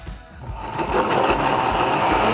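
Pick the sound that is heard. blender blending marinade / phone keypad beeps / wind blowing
blender blending marinade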